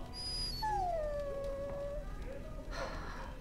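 A dog in Dragon Age Origins lets out a long, drawn-out whimpering whine that fades into softer yips, fairly faint, with quiet talk in the background.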